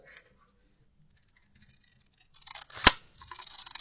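A paper stamped sentiment for a snowman card is cut with a big pair of scissors; faint rustling leads to one sharp, close snip, followed by light paper handling.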